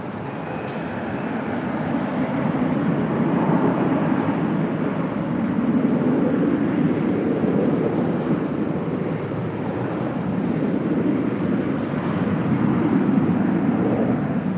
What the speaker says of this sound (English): It's an E175LR. Next departure here on 24 left.